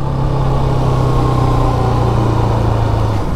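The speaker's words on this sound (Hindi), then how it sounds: "बाइक का पेट्रोल ख़त्म हो गया और बाइक पेट्रोल छोड़ रही है अब" A 2022 KTM RC200 motorcycle engine runs steadily as it starts running out of petrol, holding a constant, loud drone with no clear revving.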